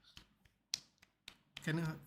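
One person claps a few sharp, sparse times, close and quiet, while watching a Manchester United versus Crystal Palace match. A voice begins speaking at the end.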